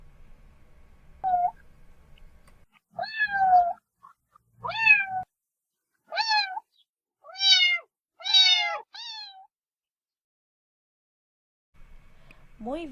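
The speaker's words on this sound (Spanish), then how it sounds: "Gato." A cat meows several times in a row, clear and close, each call rising and falling with short pauses between them.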